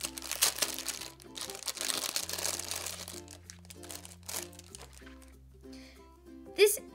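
Crinkling plastic packaging being handled and pulled open around a reborn doll, in bursts of rustling and crackling under background music, with one sharper crackle near the end.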